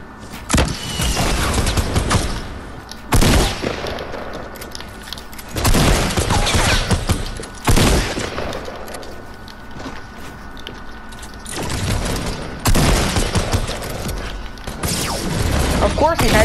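Fortnite gunfire in a solo match: loud, repeated bursts of shots and booms coming in clusters several seconds apart, close and punchy, with brief gaps between them.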